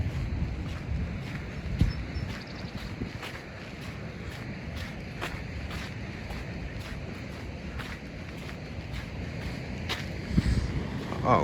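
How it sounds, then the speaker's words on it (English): Extreme ocean waves and gusting wind at Black Point in Narragansett, Rhode Island, on a cold day, heard as a steady broadband roar with wind buffeting the microphone and occasional louder surges. "The waves are pretty extreme. It's a cold day today, and it's kind of windy too."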